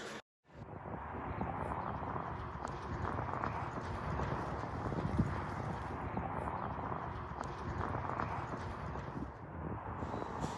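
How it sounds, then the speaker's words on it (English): Racehorse trotting across grass on the gallops, a steady rhythmic clip-clop of hooves close by, with a low airy background hum and no speech. "Lir Speciale is trotting across the grass to get to the warm-up canter before his gallop."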